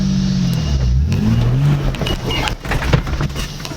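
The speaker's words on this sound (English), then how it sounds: "Now I'm going to clutch out off the brake, and I'm going to drive." A short-wheelbase Bundera 4x4 engine revs and strains as it climbs a steep rock step, a steady loud mid-pitched drone with pitch rising and falling under load, close and alone with no talk.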